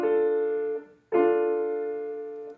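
A root-position triad chord rings out, fades, and is struck again, each time sustaining clearly on its own with no voices.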